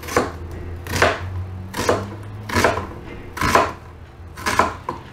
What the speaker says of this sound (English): Peel the onion, cut it in half, and we're gonna do little strips.